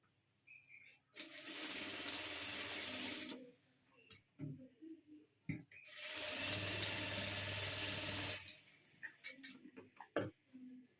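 A sewing machine stitches net fabric for a puffed sleeve in two long, steady runs of rapid mechanical whirring, separated by a pause filled with small handling clicks and taps, with a few more clicks at the end.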